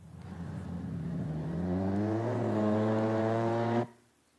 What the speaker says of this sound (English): moving vehicle sound